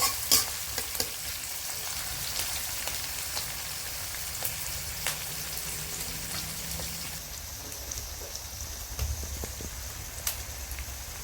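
Chopped onions with green chili soften in a pan for a goat meat curry, giving a continuous close sizzle with small crackles and pops and no talking.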